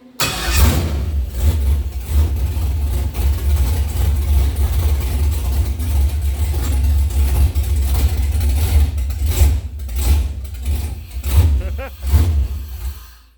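Camaro with a 5.3 engine controlled by Terminator X, idling roughly and unevenly after its first startup; a loud, close, throbbing low rumble with uneven pulses and small revs toward the end, while people talk nearby.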